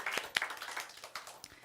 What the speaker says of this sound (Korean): 다시 한번 축복의 박수